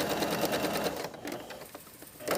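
Sewing machine stitching the hem of a jacket, a steady close whirring run that slows and stops partway, then starts again at the end.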